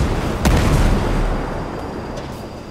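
Rocket explosions in the Ghost Recon: Breakpoint video game: a heavy boom rolls in around the half-second mark, followed by a sustained low rumble that slowly fades.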